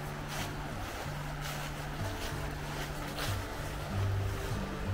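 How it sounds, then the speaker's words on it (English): Rushing river water flows past at Landsford Canal in a South Carolina state park, a steady broadband wash that holds constant and fairly close throughout, with a low hum underneath and no talking. "that sound of the rushing water coming by"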